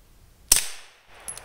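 A single sharp shot from a suppressed Walther PPQ pistol fired outdoors in snow, a loud crack followed by a decaying tail, then a faint metallic click afterward.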